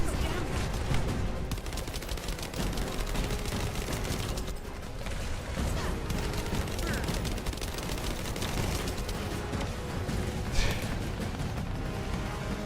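Gunfire in the video game Destiny 2 forms a dense, continuous barrage of rapid shots and mechanical clatter, loud and unbroken for the whole stretch.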